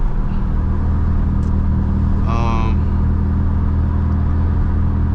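A stage 2 FBO BMW 335i idling while it warms up, a steady close engine drone that fills the whole stretch, with a brief tonal chirp partway through.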